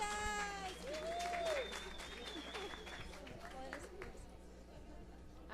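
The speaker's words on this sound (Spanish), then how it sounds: "¡Aplausos!" Scattered clapping from a classroom audience at a talk on forest fires in Bogotá, faint and patchy beneath lively chatter and several voices speaking over it.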